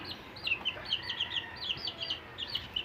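Backyard chickens in a small home coop clucking in short, repeated high calls, moderately close over quiet outdoor background, with no talking.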